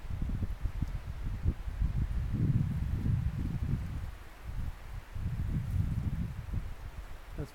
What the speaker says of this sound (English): Can you hear the wind?